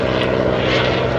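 A Junkers Ju 52/3m trimotor propeller airliner flies slowly past at an air display at Villaroche, its engines giving a loud, steady, close droning roar throughout.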